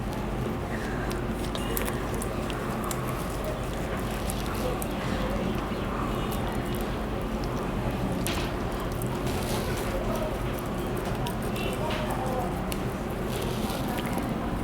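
Hands work homemade moisturiser cream made with mustard oil in a big bowl, a soft, continuous squishing and smearing with faint wet clicks, quiet and close.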